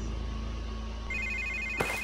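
A phone rings in Batman: The Telltale Series, a clear electronic ringtone that cuts in about halfway through and pulses on steadily over a low hum, ending with a sharp click.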